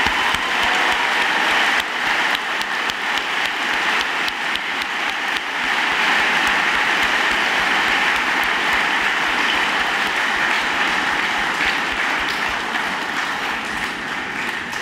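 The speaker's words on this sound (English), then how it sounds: "You really do deserve a massive round of applause." Sustained, dense audience applause in a hall at a house song competition event, a loud unbroken wash of many hands clapping that continues steadily for the whole stretch.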